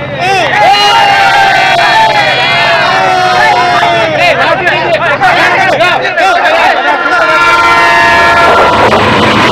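A departing train rumbles steadily with a long horn-like tonal sound, while a crowd murmurs and voices chatter nearby throughout.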